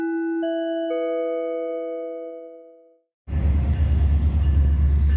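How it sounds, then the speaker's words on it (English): A sustained multi-note tone fades out, then after a brief gap a loud, close rumbling roar of a passing Metrolink commuter train in Fontana takes over. "And both of those trains, the other one that I just documented moments ago is going eastbound."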